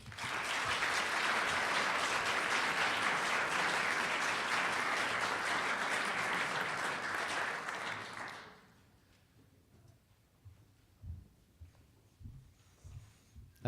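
Audience applause welcoming Mayor Matt Brown at a National Pride delegation event, loud and sustained for about eight seconds before dying away to a quiet room with a few scattered knocks.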